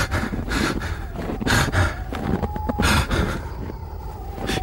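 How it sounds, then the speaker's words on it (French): Heavy, breathless panting of climbers crossing a 4,400-metre Andes pass in thin air, loud ragged gasps and snorts repeating with rushing wind-like noise throughout. "Ils s'essoufflent."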